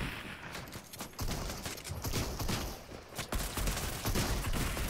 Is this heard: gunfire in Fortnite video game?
yes